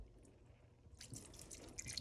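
Coolant trickles faintly into the radiator of a 2010–2019 Dodge Ram 1500, a quiet pour that swells into a brighter, gurgling splash after a second.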